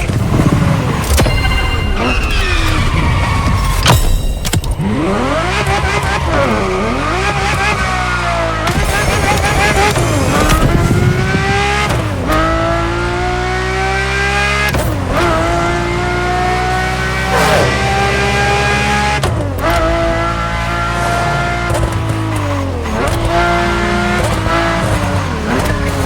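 Ferrari F40 and F50 supercars racing in The Crew Motorfest, loud engines revving and shifting through rising and falling pitch sweeps, with bursts of tyre squeal.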